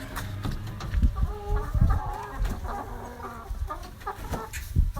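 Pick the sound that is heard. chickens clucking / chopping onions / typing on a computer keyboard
chickens clucking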